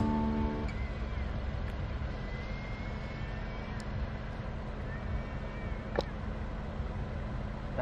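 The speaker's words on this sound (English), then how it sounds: "Come get your food, kitty kitty." Stray cats being fed outdoors in Hawaii meow in a short burst of cries near the start over a steady outdoor rumble, with a few faint calls and clicks later on.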